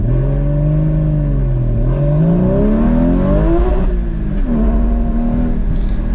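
A Porsche GT4 (981) at an autocross accelerates hard with wheel spin, its engine note rising and falling loudly and close, revs climbing steadily before a brief dip and another pull.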